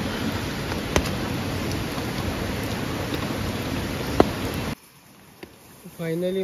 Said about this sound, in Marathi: बाहेर बघू शकता रिमझिम रिमझिम पाऊस चालूच आहे